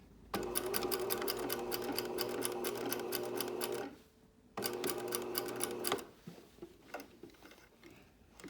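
A sewing machine stitches a fabric Torrens box top along its existing stitching lines, running in two steady rapid bursts with a brief pause between, then stopping and leaving quiet handling noise.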